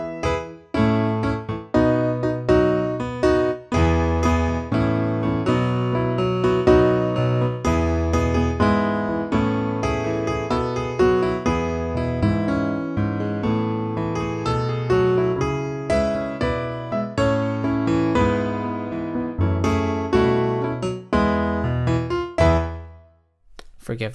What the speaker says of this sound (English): So it literally, according to its name, Rock Studio Grand, it really sounds like a rock piano.